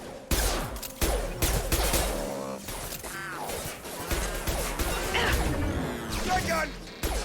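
Gunfire rattles in the video game Mass Effect 2, a loud battle of repeated shots and crashing impacts that runs throughout while voices speak over it.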